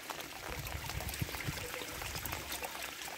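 Water trickling steadily from a garden pond, a continuous, fairly soft splashing flow with no voices over it.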